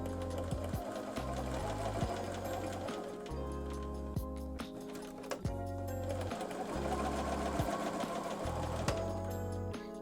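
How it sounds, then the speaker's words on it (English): Sewing machine stitching the edges of a fabric ornament, its needle chattering rapidly in steady runs that pause and restart, close and continuous, with a low motor hum. "I'm just gonna sew on the 2 edges here"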